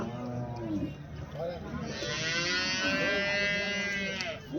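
Buffalo at a livestock market near Erode giving a long, loud, drawn-out moo in the second half, with people talking and crowd noise around it.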